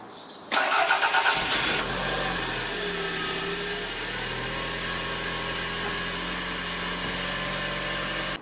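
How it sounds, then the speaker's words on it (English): A Toyota MR2 engine cranking briefly and catching after a radiator and coolant refill, then settling into a steady, close idle that runs on evenly to the end. "So start the car again and see how it goes."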